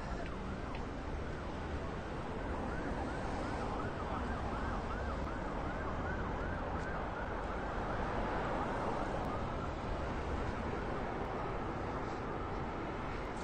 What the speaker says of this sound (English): There comes an ambulance.